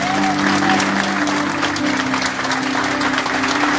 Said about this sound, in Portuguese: Você pode aplaudir com força o nome do Senhor.